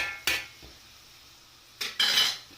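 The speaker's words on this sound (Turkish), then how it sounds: "Hemen kapağımızı kapatıyoruz." Metal clatter as a lid goes onto a saç pan of sautéing meat for saç kavurma: two sharp clanks about 1.5 seconds apart, the second ringing brighter and longer, with a faint knock between them over a quiet background.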